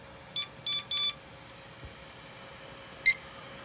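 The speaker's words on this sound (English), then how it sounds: "you just heard the BIOS boot sequence finish with the beep code of everything's happy" Server motherboard BIOS beep code at boot, three short electronic beeps in quick succession followed by a single sharper beep after a pause, clear against a faint steady hum from the machine.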